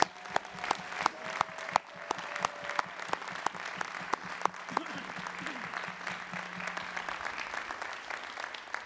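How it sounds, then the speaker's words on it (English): Ceremony audience at a Dartmouth graduate school investiture giving a final round of applause for the graduates, sustained crowd clapping with loud individual claps punctuating the first half, then settling into a softer, even patter. "Let's have one more round of applause for everyone, all of our graduates."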